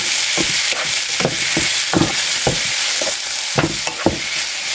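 Tomatoes sauté in a frying pan with a continuous sizzle, while a spatula scrapes and stirs in regular strokes about every half second, close and clear without speech.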